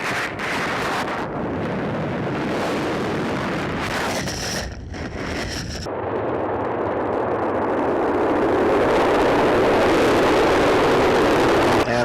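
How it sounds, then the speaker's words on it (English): Space Shuttle Columbia lifting off, a loud, steady broadband rocket roar with wind-buffeted crackle that swells and holds for the full span, no voices over it. "Liftoff of Space Shuttle Columbia"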